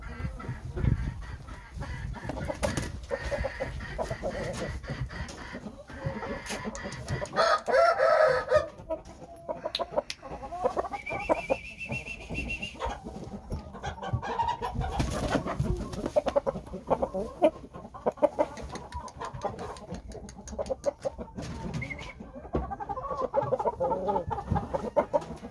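O-Shamo gamefowl roosters cluck and crow close by in a steady run of calls, with one rooster crowing loudly among the clucking and other faint farmyard noise.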